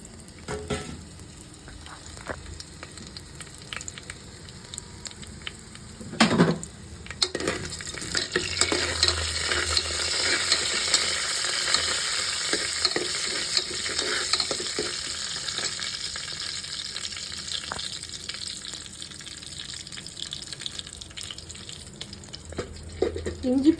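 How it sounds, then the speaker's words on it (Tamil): Mustard seeds, cumin, fennel, cardamom, bay leaf, cinnamon and stone flower splutter and sizzle in hot oil in a pan, a steady close crackling hiss with occasional pops and utensil clinks, no talk over it. "இப்போ தாளிப்புக்காக இதில் கடுகு சீரகம் சோம்பு ஏலக்காய் பிரிஞ்சி இலை பட்டை கொஞ்சமாக கல்பாசி வந்து சேர்த்துக்கிறேன் இதெல்லாம் வந்து பொறிஞ்சு வரட்டும்"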